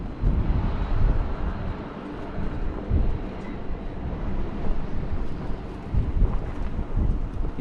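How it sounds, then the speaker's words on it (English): Gusty wind buffets the microphone on the bank of the River Humber, a loud, rumbling, low-heavy roar that surges and eases in waves throughout, with no voices. "It's quite gusty."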